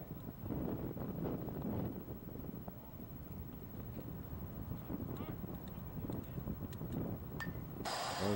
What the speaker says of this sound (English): Wind blowing straight in from center.